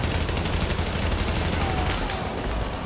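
Sustained automatic gunfire in Tom Clancy's The Division, a loud, dense stream of rapid shots rattling without pause across the whole stretch, with no talk over it.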